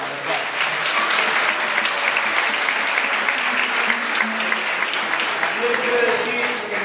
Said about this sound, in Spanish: Un aplauso para el señor Pablo